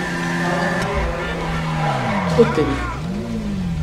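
An old Indian motorcycle ridden in GTA 5 gives a steady droning engine note and a short skid, with someone talking over it throughout.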